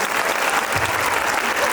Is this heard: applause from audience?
yes